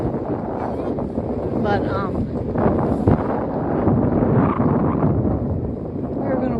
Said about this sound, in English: I'm on the hill and it's windy right now.